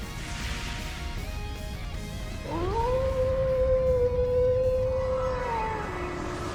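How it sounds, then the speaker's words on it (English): In the video game Trails into Reverie, a wolf lets out a single long, sustained howl. It rises, holds steady, then slides lower over a dense, rumbling backdrop of game sound. "Did that howl cancel out the artifact's power?"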